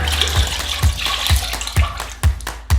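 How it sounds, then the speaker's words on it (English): Mirin being poured into a saucepan, a steady liquid gush and splash running under a rhythmic thumping music beat, moderately loud and continuous. "Pour 400 milliliters of mirin into a saucepan."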